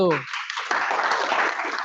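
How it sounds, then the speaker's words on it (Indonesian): Brief applause for a student group in a class session, a short burst of clapping from a small audience that begins just after a voice speaking at the start and continues to the end. "tepuk tangan buat kelompok 1"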